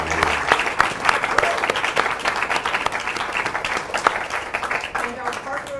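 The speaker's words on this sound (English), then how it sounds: "I mostly want to thank our panel, who I think we should all give another round of applause." An audience in a room gives a panel a round of applause at a Human Rights Watch event, with dense and sustained clapping from many people that stays fairly close and loud for several seconds.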